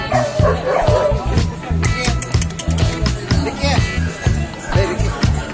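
Dogs bark and yip at a large indoor pet show in Bangalore, repeated close barks over a steady crowd hubbub with people talking throughout.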